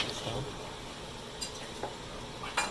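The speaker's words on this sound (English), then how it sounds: "Stir that in." Homemade Italian tomato sauce with basil is stirred in a pot, giving a faint steady simmering sizzle with a few soft spoon clicks against the pan.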